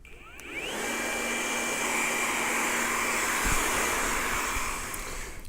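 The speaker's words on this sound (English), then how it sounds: "I'm going to use a diffuser just to dry it off, just to enhance the curl." A hair dryer fitted with a diffuser dries wavy hair in a barbershop, a steady, loud whirring blow with a faint tonal whine that runs unbroken from start to finish.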